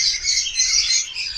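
Budgerigars chirp in a close, bright, continuous twittering chatter with no talk.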